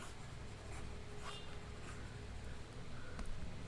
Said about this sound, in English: let me write it properly